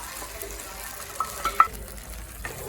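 A spice paste and yogurt whisked with salt and sugar fry in a pan while being stirred, making a steady soft sizzle broken by a few sharp scraping clicks from the spoon, close up and with no voices.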